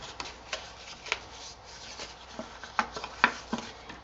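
Papercraft paper gets folded and creased by hand: soft rustles and several sharp crackling snaps at irregular moments, close and fairly quiet with no talk.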